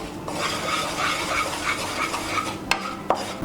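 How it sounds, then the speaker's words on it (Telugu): Butter and flour stirred in a pan for white sauce, a steady scraping swirl with soft sizzling underneath and a couple of sharp utensil clinks near the end, close and continuous with no talking. "బటర్ అంతా పైకి తేలే వరకు మనం కలుపుకుంటూ ఉందాం."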